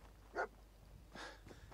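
A dog in Fallout 4 lets out a single short bark, then a softer, breathy second bark, both faint and at a distance.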